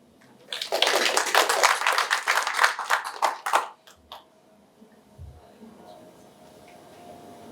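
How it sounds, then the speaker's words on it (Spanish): Audience applause at an evening panel on arbitration ethics in a law faculty, a burst of clapping lasting about three seconds before fading into quiet room noise. "Les pido un fuerte aplauso."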